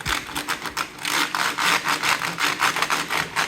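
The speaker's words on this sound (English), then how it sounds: "Cover that back and just give it a good little wipe." A cloth rubs briskly back and forth across a computer keyboard, a close, rhythmic series of dry swishing strokes, roughly three per second, with no talking.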